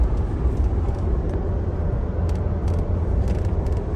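Continuous loud rumble and road roar from an off-road overland vehicle driving near Telluride, a steady drone with faint rattles and no voices.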